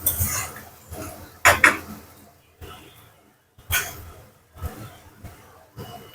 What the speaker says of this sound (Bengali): এবার এটা গ্যাস বন্ধ করে নামিয়ে নেব